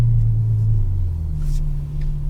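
A Ferrari F12 Berlinetta's engine rumbles low and steady at gentle throttle on a racetrack, its deep drone shifting slightly in pitch as the car pulls away.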